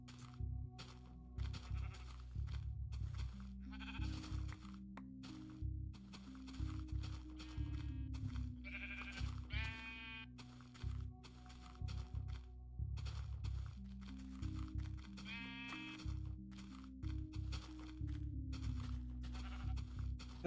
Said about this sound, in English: And more sheep in the distance.